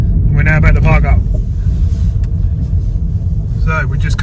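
A car rolls along toward a riverside parking spot, its low engine rumble and road noise steady and close throughout, with someone talking over it at the start and again near the end.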